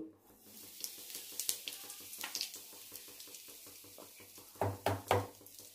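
A pinch of asafoetida sizzling in hot oil in a wok, a quiet crackling fry with scattered pops and a few louder sputtering bursts toward the end; no talking.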